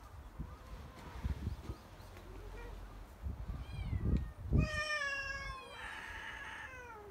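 Country cats in a tense standoff, growling low at first, then letting out long, rising, wavering meows and caterwauls up close, with a little faint background noise.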